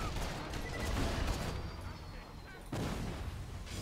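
Sniper rifle fire in the shooter game Borderlands 2 cracks through a dense wash of game battle noise, with a sharp burst near the end, heard fairly loud amid continuous rumbling effects.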